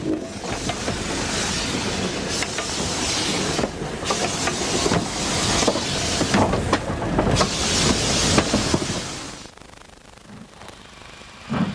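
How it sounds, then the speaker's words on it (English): A steam train runs on the 2-foot 6-inch narrow-gauge line at Sittingbourne, a steady loud chuff and hiss with rattling carriages and clickety-clack wheels that eases off near the end. "In happier times, a steam service operates on the 2-foot 6-inch gauge line."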